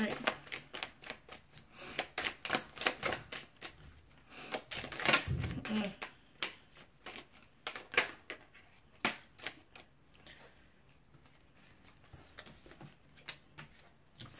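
Tarot cards are shuffled by hand at close range, a rapid irregular run of crisp riffling clicks and slaps with short pauses between bursts.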